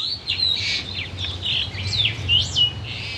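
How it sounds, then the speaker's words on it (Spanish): A long-tailed meadowlark (loica) sings a series of clear, sliding whistled notes, loud and fairly near, over a low, steady background rumble. "La loica es una de las aves muy comunes de nuestro territorio"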